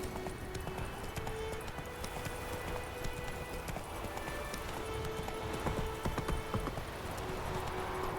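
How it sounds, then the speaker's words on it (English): Horse hooves clip-clop steadily in the video game Witcher 3, with a continuous rhythmic trot at moderate loudness over a dense, noisy game soundscape. "Horse likes to be persnickety."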